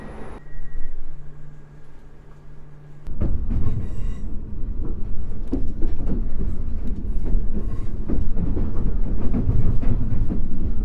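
The Batory train pulls away from Sosnowiec Główny station: after a low hum and a sharp thud, loud rumbling rolling noise sets in, with rhythmic wheel clatter and squeaks rising close by.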